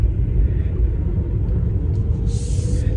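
A car driving slowly while heavily loaded with tiles: a steady, close, low rumble of the engine and tires that goes on throughout, with a faint higher hiss near the end.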